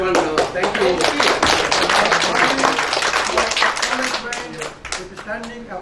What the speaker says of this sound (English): With a standing applause from all of you for Dr.